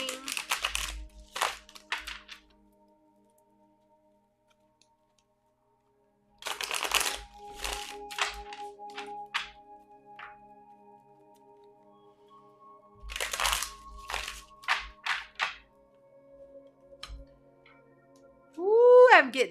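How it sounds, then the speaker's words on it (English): A deck of tarot cards is shuffled close up in three separate bursts of quick riffling and flicking, with near-silent pauses between them. "give these a shuffle for the next reading"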